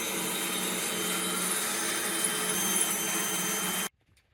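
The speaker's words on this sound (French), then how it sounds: "du coup c'est percé" Power drill boring holes into an off-road trailer, a steady loud whirring grind running continuously for nearly four seconds before cutting off abruptly into quiet.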